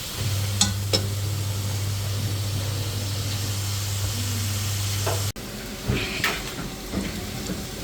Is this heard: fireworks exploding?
no